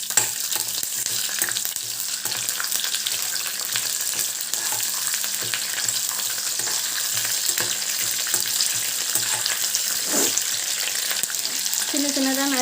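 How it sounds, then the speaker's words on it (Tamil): Curry leaves sizzle and crackle steadily as they are sautéed in a pan of cumin-seasoned oil for a fish thokku, with occasional stirring scrapes and a continuous close frying hiss and no talk. "போட்டு நல்லா வதக்கிக்கலாம்."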